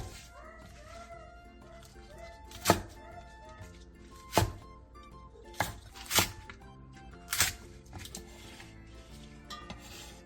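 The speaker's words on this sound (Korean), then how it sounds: "대파 1개를 길게 반으로 가른 뒤 4cm 정도 길이로 잘라주세요." A knife chops a green onion on a cutting board in a few sharp, spaced chops, close up, over a quiet bed of background kitchen noise and soft music.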